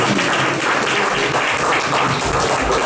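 A festival crowd applauding a band: dense, close clapping filling the whole short stretch at a steady, loud level.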